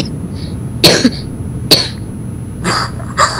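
Several loud, close coughs in quick separate bursts, some sounding like throat clearing, with short gaps of quiet background hiss between them during a gaming session.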